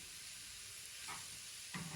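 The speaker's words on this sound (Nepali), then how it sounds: "अब यसमा हामी अघि कोरेको गाजर राखेर यसलाई एकछिन भुट्छौँ।" Grated carrots frying in ghee give a steady soft sizzle and hiss, with a couple of brief scraping stirs near the end, close by and fairly quiet, with no voices.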